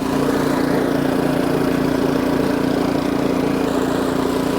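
An Ariens snowblower engine runs steadily in third gear, a close, continuous mechanical drone with an even hum and no breaks or talk.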